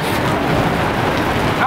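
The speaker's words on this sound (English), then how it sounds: "I'm gonna go wash myself in the rain." Heavy rain pours outdoors beside a balcony, a dense continuous wash of falling water, loud and close throughout.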